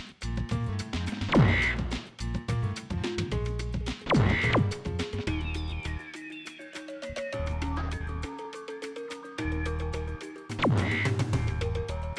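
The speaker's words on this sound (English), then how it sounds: "the machine room is overrun with birds" In the video game Spyro Year of the Dragon, birds squawk and quack harshly in repeated bursts over steady background game music.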